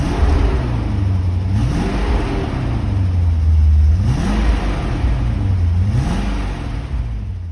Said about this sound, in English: featuring the aforementioned high-performance S62 V8 engine that delivers exhilarating power and speed